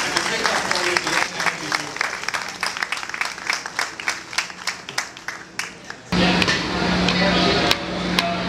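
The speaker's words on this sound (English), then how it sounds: "a big round of applause for our panel of judges" Crowd applause for a judges panel at a live healthy-food cooking competition event, sharp claps scattered over busy background noise, with a louder, denser burst near the end.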